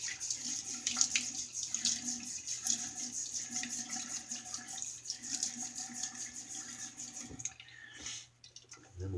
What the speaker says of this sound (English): Then we'll wet the brush and load it here.